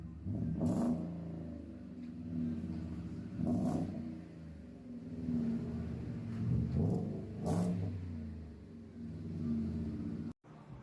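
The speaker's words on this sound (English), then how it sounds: "That is your basic dual exhaust on the Fords. That's called dual in, dual out." A Ford F250 engine revs through a Magnaflow dual exhaust, several deep rising and falling throttle blips in a steady rhythm, close and rumbling with no talk over it.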